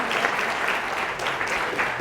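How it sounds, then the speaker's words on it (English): A studio audience at a high-school quiz show claps in a dense, steady round of applause, close and continuous for a couple of seconds. "go ahead and give them a round of applause"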